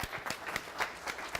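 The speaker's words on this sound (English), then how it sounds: "Let's give her a round of applause." Scattered, light clapping from a small group at a company all-hands meeting greets a presenter; the claps are sparse, uneven and brief.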